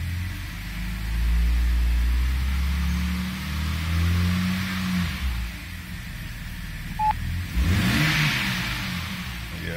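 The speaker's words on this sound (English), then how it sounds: "let's put a little gas in it." A 2006 BMW 330i with freshly replaced coil packs and alternator regulator revs under throttle: a close engine climbs and falls in a couple of blips, then surges again near the end after a short quieter stretch.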